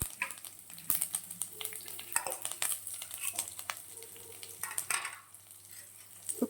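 Carrot stir-fry sautés with onion and curry leaves, making a steady close sizzle over busy spoon stirring and scraping against the pan, with a faint dog bark in the background.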